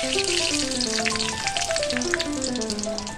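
Dry red chillies and bay leaves fry in hot oil with a steady, close sizzle and crackle that runs throughout the clip, with no voices.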